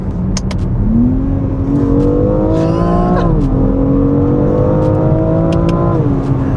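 Modified BMW X3 M SUV engine pulling hard under acceleration, a loud, steady rising drone with smooth harmonics that climbs through the revs, dips briefly at a gear change around the middle, then climbs again from close inside the car.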